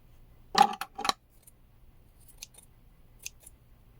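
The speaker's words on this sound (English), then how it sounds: "So I'm just going to keep trimming till I'm happy with how it looks." Scissors snip at a yarn pom pom bunny tail in two quick, close cuts, followed by a few faint clicks as the blades open and close in an otherwise quiet room.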